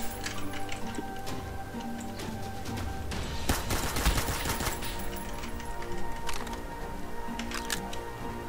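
Gunfire crackles in a Roblox shooter game set at a space force base, with bursts of rapid shots, a louder cluster of cracks midway, and more scattered shots after.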